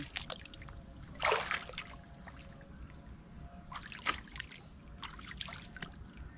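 Steady rainwater trickles and pours nearby in a flooded rural spot, a continuous wet wash with two louder splashy surges, no voices.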